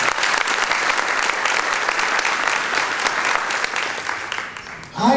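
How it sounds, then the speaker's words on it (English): A round of applause from an audience at an awards event, steady and full for several seconds, then tapering off, with a voice starting up at the very end. "Let's give Kevin a great round of applause."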